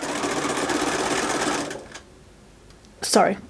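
A sewing machine runs steadily while stitching a quilt panel block, then stops; a short burst of another noise follows near the end.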